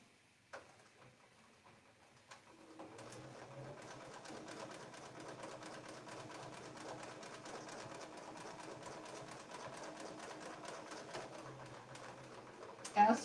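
A sewing machine stitches steadily around a circular template, a continuous fast mechanical whir that starts after a brief pause and runs evenly for about ten seconds before stopping.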